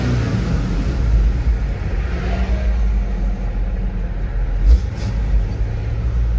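A work vehicle's engine holds a steady mid-range rev near 2,000 RPM in a shop setting, a continuous close, loud rumble that stays even throughout with only a slight swell near the end.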